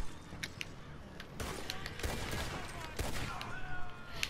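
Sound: gunfire in the video game Red Dead Redemption 2

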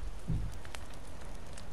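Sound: fire crackling in The Forest video game

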